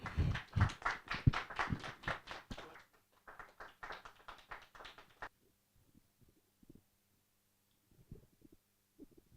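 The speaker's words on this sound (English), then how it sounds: "Please have a huge round of applause for Anisha Lalvani, ma'am" Sparse clapping from a small audience at a literary talk, a few seconds of distinct close hand claps that thin out and stop, followed by scattered faint taps and near silence.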